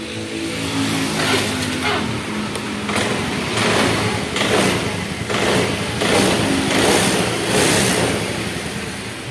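A Honda Vario scooter engine with a sputtering fault that stalls when throttled starts and runs nearby, a steady putter rising and falling in several uneven surges of revving across the clip, with no talk over it.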